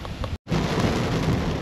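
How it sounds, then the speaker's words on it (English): Heavy wet-season rain pours down at Howard Springs in Australia's Northern Territory, a loud, continuous hiss of drops hitting surfaces, with a brief cut in the sound near the start. "The rain is definitely coming down now."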